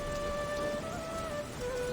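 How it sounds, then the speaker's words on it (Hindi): Light rain drizzle in a cartoon scene, a steady even hiss of falling drops with a faint tonal hum running underneath and no voices. "बारिश अब हल्की फुहार में बदल चुकी थी।"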